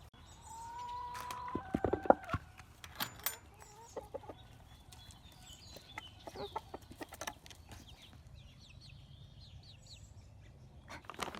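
Backyard chickens cluck and squawk nearby in short, scattered bursts, with one louder call early on, over a quiet outdoor background.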